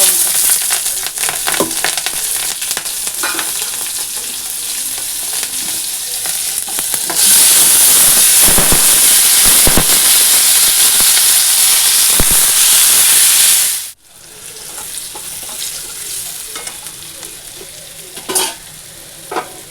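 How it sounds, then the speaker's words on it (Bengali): Potato pieces fry in hot oil in a wok with turmeric, five-spice seeds and bay leaf, giving a loud, steady sizzle and hiss that swells sharply midway, then drops to a gentler crackle with occasional stirring scrapes. "কড়াই তেল দিয়ে একটুখানি হলুদ দিয়ে দিয়েছি আলু ছাড়বো"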